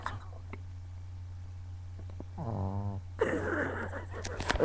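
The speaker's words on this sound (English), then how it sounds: "The snoring pugs." A pug dog gives one drawn-out, rasping snore midway over a steady low hum, followed by breathy, rustling noise close by.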